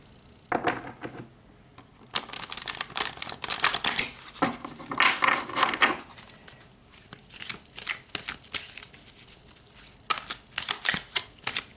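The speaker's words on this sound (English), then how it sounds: "let's pull some more cards" Tarot cards being shuffled and pulled, a series of close, crisp riffling and snapping bursts with short pauses between them, no voice over the top.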